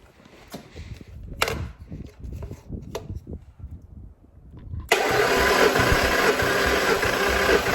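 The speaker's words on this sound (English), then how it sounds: "Glad I got the engine started." Knocks and clatter give way to a Coyote 5.0 V8 engine on an engine stand that fires up and settles into a loud, steady running roar close by.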